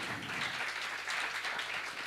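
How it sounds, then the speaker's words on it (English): Dense, steady audience applause at the final event of a youth competition, a close, continuous wash of many hands clapping at even loudness with no speech over it. "So an applause now and a shout out to Leah, woo!"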